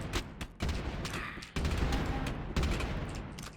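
Landmine blasts and gunfire go off in a video game, with several sharp, loud bursts at irregular intervals, each followed by a crackling, rumbling tail.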